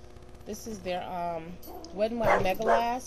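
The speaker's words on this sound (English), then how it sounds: "that's my dog acting crazy" A dog barks, yips and whimpers in short excited bursts indoors, close by, mixed in with someone talking over it.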